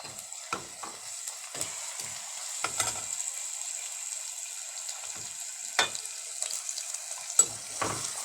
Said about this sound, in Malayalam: ഒന്ന് മൂക്കട്ടെ.